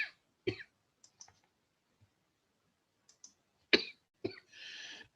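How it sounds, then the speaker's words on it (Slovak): Several short, sharp coughs come in bursts separated by near silence, with a faint exhale trailing at the end. "kašlem."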